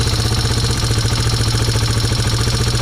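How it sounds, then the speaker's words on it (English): A Yamaha TW200 motorcycle engine idles close by after an air mixture screw adjustment, a loud, steady, rapid thumping putter with an even rhythm and no voices. "it seems to be idling pretty well right now"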